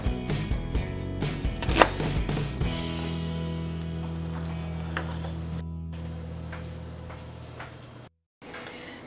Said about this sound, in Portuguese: E agora vamos fatiar a cebola.